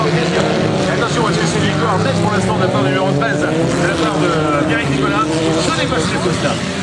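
An autocross race car in the 2-litre final at St Meen 2009 roars steadily at high revs throughout, with a commentator talking continuously over the engine noise.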